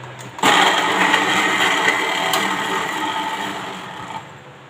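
A kitchen mixer grinder whirs loudly on ginger and garlic, starting abruptly after a brief quiet moment and running as a steady, close, buzzing drone for about four seconds before easing off.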